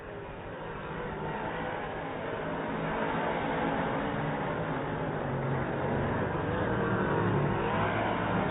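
Modified race cars circle Lernerville Speedway in Sarver, Pennsylvania during an A-main, their engines a continuous, loud roar that swells gradually as the pack thunders by, with no voices over it.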